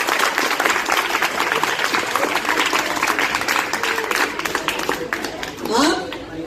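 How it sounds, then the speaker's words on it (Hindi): An audience at an annual speech event breaks into sustained applause, a dense crowd of clapping that keeps up steadily and begins to thin near the end, with a voice heard briefly among it. "बजाओ ताली।"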